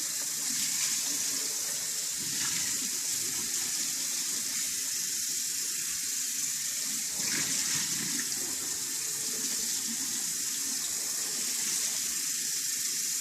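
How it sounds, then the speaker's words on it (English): Hot water pours steadily down a kitchen sink while a greasy pan is being cleaned after cooking chicken, a continuous close splashing wash that runs unbroken without talk. "All you're going to need is to have hot water, pour it down your sink, wipe it down"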